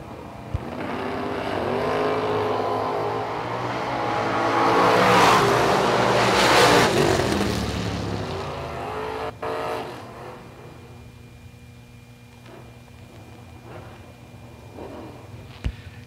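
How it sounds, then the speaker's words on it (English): Drag racing cars, a Chevy II wagon and a Corvette, roar down the strip. Engine noise swells and sweeps past, then fades into a lower rumble and scattered track sounds. "Another Chevy 2 wagon. Lipsinger in the left lane. The Corvette out of New Hope"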